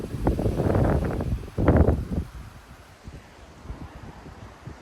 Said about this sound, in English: Man, this wind's crazy.